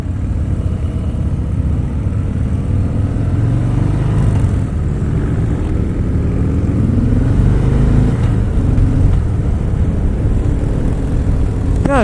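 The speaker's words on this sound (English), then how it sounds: "The exhaust on this bike is pretty simple looking. It's only one side, but it's loud enough." A 2018 Harley-Davidson Sport Glide 107 with a single-side exhaust rumbles loudly and steadily up close, a deep continuous engine drone with slight swells as it idles and revs.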